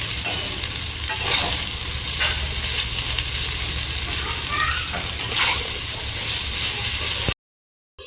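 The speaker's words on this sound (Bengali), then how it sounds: "প্রথমে 1 মিনিট মতন খুন্তি দিয়ে ঠিক এরকমভাবে নেড়ে নেব" Chow mein noodles fry in oil in a small wok (kadai) while a spatula stirs them, giving a loud, steady, close sizzle with scraping that runs almost to the end, then briefly cuts out.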